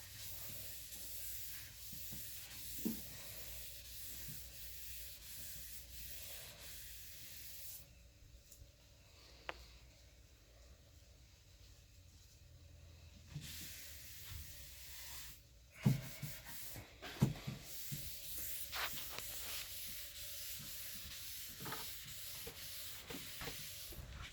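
Java gel stain is worked into wood by hand with a soft, repeated rubbing and scrubbing, close and quiet, pausing briefly midway before resuming with a few sharper scuffs.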